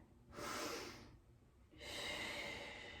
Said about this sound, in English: Take 1 more final breath here.